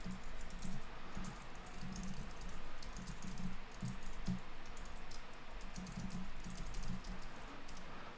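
Steady run of keystrokes on a computer keyboard, close and fairly quiet, clattering in uneven bursts with short pauses and no voices.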